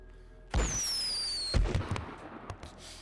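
Fireworks going off during a video game roleplay: a sharp bang followed by a rising whistling screech lasting about a second, then a second loud burst with crackling pops trailing away, close and loud.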